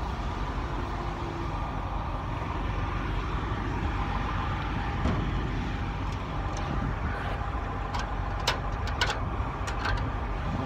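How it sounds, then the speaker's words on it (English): Engine driving a nitrogen transfer pump runs at a steady idle, a continuous loud droning rumble with broadband mechanical noise throughout and a few faint bird-like chirps. "fire up your pump. Start it out at an idle"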